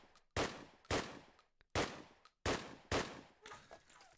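Automatic gunfire in a Call of Duty esports match, rapid bursts cracking out in about six loud, evenly spaced volleys, the last one quieter and more scattered, with no talk over it.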